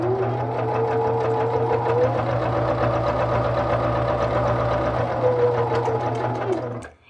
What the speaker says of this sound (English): The first thing it'll do is sew the bar tack at the beginning of the buttonhole, and then it will move backwards and sew the left leg of my buttonhole.